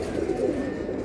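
High-flying tumbler pigeons in a loft, cooing together in a soft throaty warble, close and continuous for about a second with no talking.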